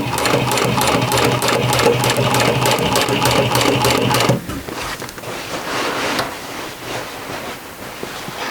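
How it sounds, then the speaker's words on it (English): Sewing machine running fast over jeans for about four seconds in a rapid, even mechanical chatter, then stopping, leaving quieter fabric handling and rustling. "sewing on this side of the machine is not the best way to do it"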